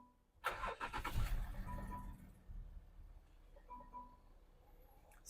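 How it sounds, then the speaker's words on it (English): A Land Rover engine cranks briefly and catches, then settles into a steady low idle, heard up close. "I'll start the car first."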